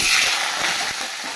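Potatoes drop into hot oil tempered with cumin, bay leaf and dried red chilli, a brief loud hissing sizzle with a few soft thuds, close up; no voices.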